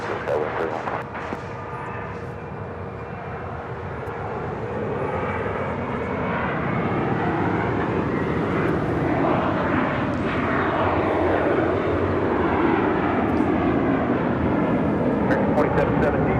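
An airliner takes off from runway 25 right at LAX, its jet engines building from a low rumble to a loud sustained roar with sweeping tonal whine as it accelerates, close and steady, with radio voices talking faintly.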